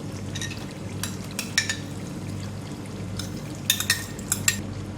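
Mutton being stirred and fried with whipped yogurt in a pot for arvi gosht, with soft sizzling and a few sharp metallic clinks of a spoon against the pot.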